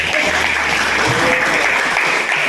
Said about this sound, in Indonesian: Give applause for her.